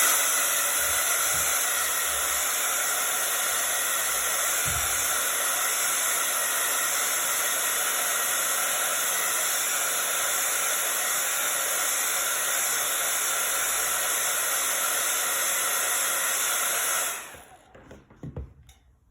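A hair dryer blows steadily for about seventeen seconds to dry a coat of paint on wood, a loud, even hiss held close by that cuts off abruptly near the end, leaving only faint handling sounds.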